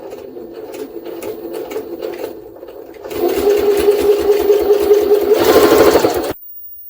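A Jaguar SJ-23 sewing machine runs steadily at low speed, then its motor whirs up louder and faster, holding a high, even hum before stopping abruptly near the end.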